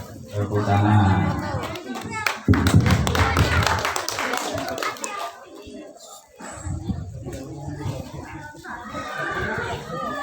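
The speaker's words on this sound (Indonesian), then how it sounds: "Tepuk tangan." An audience applauds at a village prize-giving ceremony with a burst of scattered clapping in the middle, while a voice speaks over a microphone before and after.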